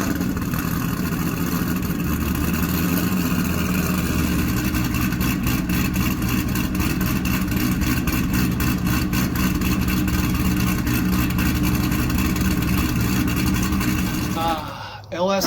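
A cammed LS2 V8 in a C6 Corvette with long-tube headers roars loudly and steadily throughout, a thick, continuous engine note that dips briefly near the end.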